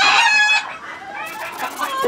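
A chocolate-colored gamecock crows loudly and close by at a Peruvian fighting-cock breeding farm, one harmonic-rich call lasting about half a second, followed by softer clucking and farmyard noise.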